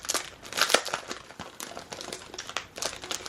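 Crinkling plastic wrapper of a vintage-style flower sticker pack being torn open and crumpled by hand, a steady run of close, crisp crackles and rustles with no talking.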